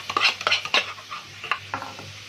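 A cup of ketchup is scraped and emptied into a pan of sauce for a quick meal, giving a string of short wet scraping and stirring strokes, close and fairly loud, with no talking.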